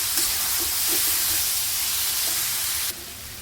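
Veg Hakka noodles and vegetables stir-frying in a pan over a high gas flame, giving a loud, steady sizzling hiss that continues without a break and eases off slightly near the end.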